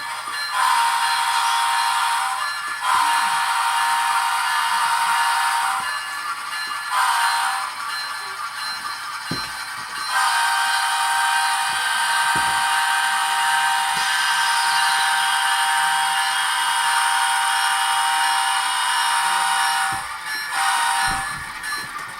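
An Intermountain N scale ES44AC locomotive in Norfolk Southern heritage N&W 8103 livery with an ESU Loksound decoder runs in reverse, its loud electronic diesel drone broken by several short pauses and repeated horn-like tones.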